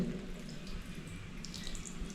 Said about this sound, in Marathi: आता बघा इकडे पाणी बघा किती कमी येतोय